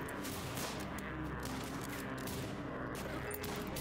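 Gunfire in the video game RimWorld comes as rapid, overlapping volleys, a continuous rattle of shots with scattered sharper bursts, steady and fairly loud throughout.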